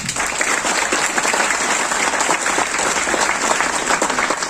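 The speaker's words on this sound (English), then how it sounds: "give a big applause to our guest" Loud, sustained clapping from a workshop audience greeting a guest at a business school event on sustainable development, an even, close crowd texture filling the whole stretch without a break.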